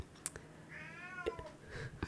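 A cat gives a single drawn-out meow, quiet and close, with small clicks and faint rustling around it.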